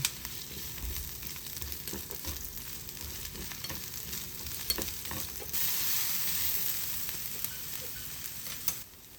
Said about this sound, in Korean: 예열된 팬에 현미유를 두르고 양파를 넣어서 볶아주세요.